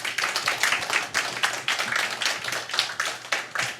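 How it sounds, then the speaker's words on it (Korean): An audience at a church women's mission assembly applauds a guest lecture, with a dense, steady patter of many hands clapping at a moderate distance that continues without letup and no speech over it. "감사의 마음을 박수로 전해드리겠습니다"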